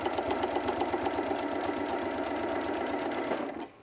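Sewing machine stitching pieces of fabric together for a crumb quilt block, a steady fast mechanical whir with rapid even needle strokes that stops abruptly at the end.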